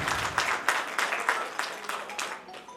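An audience at a Hindi poetry gathering's annual celebration, its 100th session, breaks into lively clapping that swells and fades unevenly, close and moderately loud.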